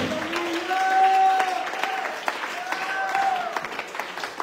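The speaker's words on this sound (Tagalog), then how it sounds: "palakpakan ka nato, magusog na palakpak sa Diyos" Worshippers at an evangelistic gospel service clap for God, dense applause mixed with crowd voices and a sustained tonal sound, likely singing or music, swelling early then thinning into scattered claps.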